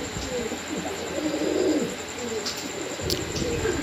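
A pair of big black German Long Face fancy pigeons coo softly and steadily up close, with their low murmuring calls rising and falling under faint background hiss and no talking.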